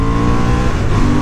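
A 2023 Honda CB750 Hornet motorcycle with upgrades, accelerating hard in second gear. A loud, close engine note rises steadily over a short burst, with no talking.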